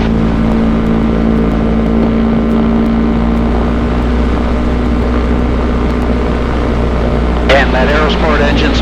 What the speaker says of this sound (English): Alright, we're going to do a run up here. We got the Aerosport 375, we're going to run up to 17.